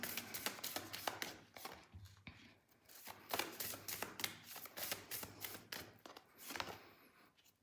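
Tarot cards shuffled and drawn by hand, a rapid run of crisp riffling slaps and soft flicks repeating in bursts, close and quiet with no talk.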